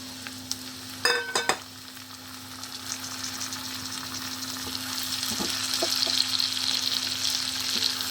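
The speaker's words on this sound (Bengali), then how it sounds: "পেঁয়াজটা বেশ ভাজা ভাজা হয়ে গেছে, এবার আমি দিয়ে দিচ্ছি সোয়াবিনটা।" Soybean chunks drop into browned onions in a pan of oil, giving a few sharp clatters and a burst of sizzle, then a steady frying hiss that slowly rises, with occasional stirring, close by and without speech.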